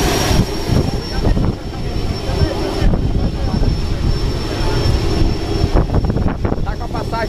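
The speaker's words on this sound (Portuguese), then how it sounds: "O avião tá ligando" A skydiving airplane's engine starts up and runs with a loud, steady roar very close by, while people talk under the constant noise.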